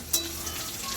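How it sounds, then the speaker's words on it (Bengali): Marinated chicken pieces for chicken Manchurian fry in oil in a pan, a close, steady crackling sizzle with a brief sharp spatter near the start and no voices. "এই দেখুন ভাজা হচ্ছে"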